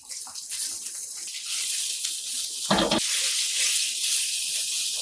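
Pork hits a hot frying pan for fried rice and sizzles with a loud, steady hiss. A sharp burst of crackling sounds partway through, then the even sizzle carries on.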